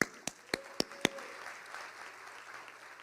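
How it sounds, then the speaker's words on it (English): An awards luncheon audience gives a short burst of applause: a few sharp, distinct claps at the start, then a softer, spread-out patter of clapping that fades away. "deserve a round of applause"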